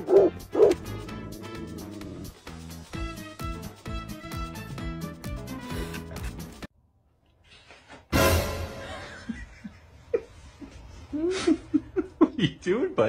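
Dogs bark and yip in a lively, loud series of short woofs mixed with whimpers, chuckling laughter and chatter, broken by a brief silence partway through.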